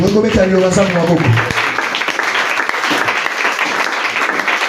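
A church congregation bursts into sustained applause and cheering, loud and dense throughout, with a voice briefly heard over the start.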